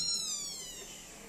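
A kitten meows in a short, faint, high-pitched cry that drifts downward, alone with no voices over it.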